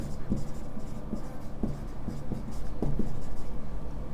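Pen writing by hand on paper while filling in a statistics table of production figures, steady scratchy strokes with occasional sharper taps, close and fairly loud.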